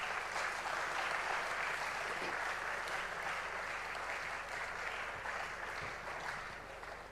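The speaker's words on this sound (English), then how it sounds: "I request all of you to kindly give a big round of applause for ma'am." Applause from the audience at a university CFO summit, steady broadband clapping that stays even and fairly quiet, heard from a distance, throughout.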